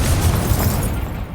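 Incendio fire spell cast in the game Hogwarts Legacy, a short, loud, close burst of fiery roar, dense and booming, fading slightly as it ends.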